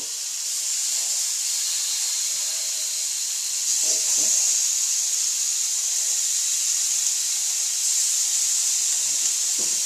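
A steady, loud sizzling hiss fills the whole stretch as chicken satay skewers sear on a hot grill, with a few faint clicks and knocks underneath.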